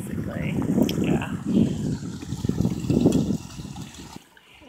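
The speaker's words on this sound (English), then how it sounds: "here's another little area that always has a little stream that runs. You can see how fast it is." A small, fast-flowing stream running down toward a creek outdoors, a steady low rushing and gurgling of water that swells and eases before cutting off near the end.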